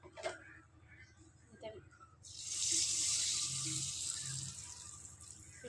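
Mustard oil with salt hitting a hot pan, a bright, loud sizzling hiss that bursts in partway through and holds steady, after a voice speaks over quiet kitchen sounds.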